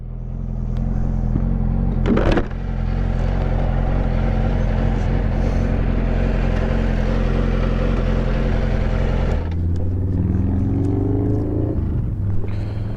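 A motorcycle engine drones loudly and steadily at a low pitch. Near the end it shifts and rises as the bike changes speed.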